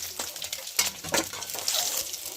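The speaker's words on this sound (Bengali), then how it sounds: "এই যে মা ভেজে তুলে নিচ্ছে লাইট করে" Eggs seasoned with salt and turmeric frying lightly in a wok, giving a soft, close crackle and sizzle mixed with stirring scrapes and a few clinks of a utensil against the pan.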